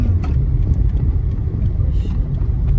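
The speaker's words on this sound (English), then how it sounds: "I'm driving" A car rolls along a road with a continuous low rumble of engine and tyre noise, wind buffeting the microphone, and faint scattered sounds above it.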